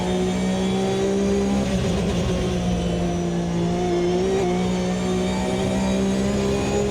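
Porsche 992 Cup race car engines in the Automobilista 2 sim racing game drone loudly and continuously, cars running side by side with a sustained high engine note and small pitch shifts as the revs change, with no voices.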